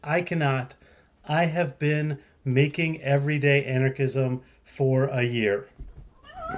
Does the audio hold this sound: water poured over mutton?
no